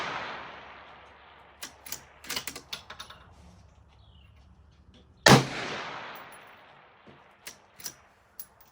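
A single loud, sharp report from a Mossberg MVP bolt-action rifle firing 55 grain rounds at a 520-yard range, preceded and followed by scattered clicks and light handling knocks.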